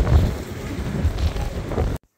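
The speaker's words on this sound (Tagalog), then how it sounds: "Ang lakas mo ng hangin din sa sentrum, my gosh." Strong wind gusts buffet the microphone in a town centre in Belgium, a loud, steady rumbling roar for about two seconds before cutting off abruptly, with no talk over it.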